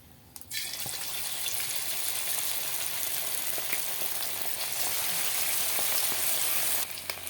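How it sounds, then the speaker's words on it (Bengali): Chicken pieces sizzle and fry steadily in hot oil in a kadai, a dense, continuous crackling hiss that stays loud and close from start to finish with no talk over it. "তেল গরম হয়ে গেছে, এবার মাংসগুলো দিয়ে দেব"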